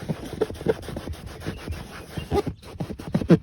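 Microfiber cloth wiping a Honda Accord interior with Goo Gone adhesive remover, giving brisk, close scrubbing and rubbing strokes in an uneven rhythm with short pauses.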